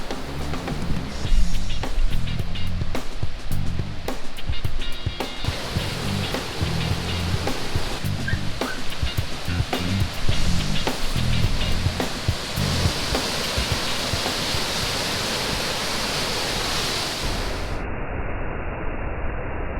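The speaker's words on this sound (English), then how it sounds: "National Creek Falls occur where the spring-fed creek diverges around a basalt outcropping and plunges about 40 feet over a jagged ledge in 2 scenic channels." National Creek Falls, a spring-fed creek plunging about 40 feet over a jagged basalt ledge in two channels in southern Oregon, roars as a continuous, dense, broadband rush of falling water, loud and steady with no voices.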